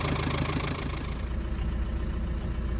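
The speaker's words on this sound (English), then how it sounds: "And it runs superbly. No vibrations out of the engine." A 1995 Land Rover Defender 90 with the 300Tdi diesel engine idles at close range, giving a steady, even clatter and low drone with no revving.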